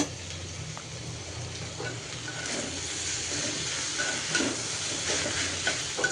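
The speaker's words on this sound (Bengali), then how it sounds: "আর ভাজিটা আমি নেড়ে চেড়ে ভাজা ভাজা করে নিচ্ছি।" Chopped bottle gourd greens fry in a pan with tomato, giving a continuous close sizzle punctuated by scraping stirs of a spoon, with no talking.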